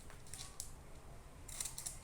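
Scissors cutting out a paper corset pattern, a few quiet, crisp snips close by, one early and a quick cluster near the end, with no talking.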